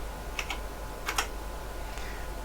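Keys clatter on a computer keyboard as a program is entered on a vintage computer under repair: a few short bursts of keystrokes, fairly close and soft, over a steady background hum.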